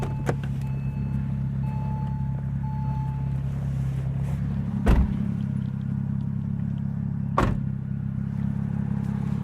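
A 2003 Porsche Boxster S drives along with a steady, low engine drone heard from inside the car, wind noise rushing past, and a couple of brief thumps from the road.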